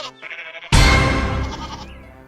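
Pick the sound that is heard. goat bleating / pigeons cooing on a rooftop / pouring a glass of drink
goat bleating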